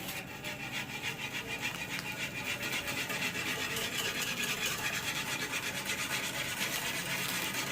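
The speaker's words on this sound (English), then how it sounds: "Now we are going to add our gelatin. And it needs to be whisked." Gelatin gets whisked into a gummy bear mixture with a steady, close scraping and rubbing of a whisk against the bowl, continuous and fairly quiet throughout.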